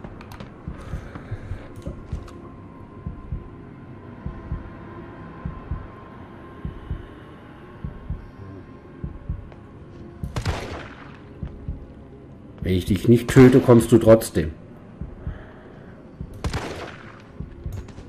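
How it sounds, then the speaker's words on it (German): Gunfire in the video game Resident Evil 3 Remake, with a few sharp loud shots and a dense burst of blasts over a throbbing heartbeat-like pulse and low hum, while a voice speaks briefly. "Drei Schüsse."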